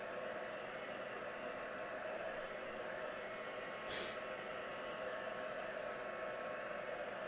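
A hair dryer blows steadily over wet paint on a mixed media artwork, a continuous close airy roar with one brief brighter hiss midway and no voices.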